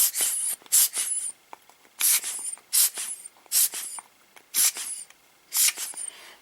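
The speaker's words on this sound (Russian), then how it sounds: "никогда не помешает такой клизмой продуть все" Repeated sharp hissing puffs of air from a rubber blower bulb in quick pairs and bursts, separated by short pauses, close up and fairly loud with no speech.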